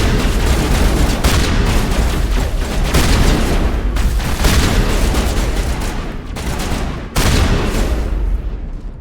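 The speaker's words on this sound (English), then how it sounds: "Immediately drilled by a rocket" Heavy, continuous barrage of booming blasts and gunfire in the Mass Effect video game, with a rocket explosion landing amid loud, dense combat noise that stays intense throughout and surges again near the end.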